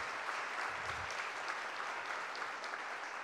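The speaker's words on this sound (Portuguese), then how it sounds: "Uma salva de palmas para a universidade." Steady, dense applause from an audience at a public hearing in defense of the federal university UFSM, filling the space evenly and continuously for the full duration.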